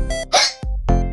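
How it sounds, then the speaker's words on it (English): A cartoonish hiccup sound effect in a children's spelling song, two or three short sharp gulping hics in quick succession. "I get the hiccups."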